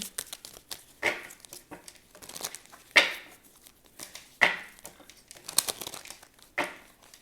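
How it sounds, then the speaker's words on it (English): Thick tarot cards are shuffled in uneven bursts, with papery crinkling and soft slaps repeating every second or so, close up and fairly quiet. "these cards are a little bit thick, so I'm shuffling them a little weird"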